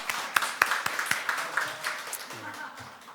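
A church congregation at a Sunday service claps to welcome a returning visitor, a short burst of scattered applause that fades out, with a voice speaking over it.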